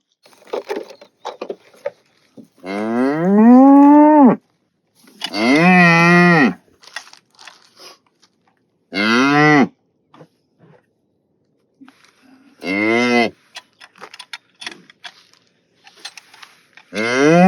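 Cattle on a farm, cows and calves, let out several loud, drawn-out moos, each lasting one to two seconds and separated by pauses, with quieter rustling and handling noises between calls.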